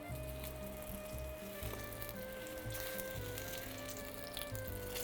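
Eggplant slices frying in a pan for sabich, a steady close sizzle running unbroken throughout with low kitchen rumble underneath and no talking.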